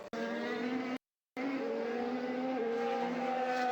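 A Formula One race car loses control and spins into the barriers, its engine note loud and continuous under a sustained screaming tone, broken by one short gap of silence before the roar resumes.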